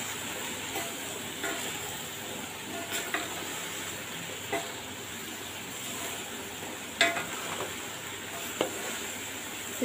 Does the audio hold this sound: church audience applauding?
no